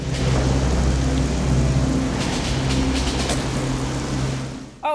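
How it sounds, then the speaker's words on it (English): A movie thunderstorm with heavy rain, steady loud downpour and low rolling thunder rumbling beneath it, ending in a brief abrupt burst. "Is this the big storm?"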